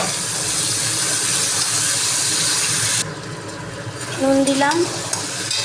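Potatoes, onions and tomatoes frying in hot oil with whole cumin and garam masala, a loud, steady sizzle with stirring that drops abruptly partway, then a brief spoken comment.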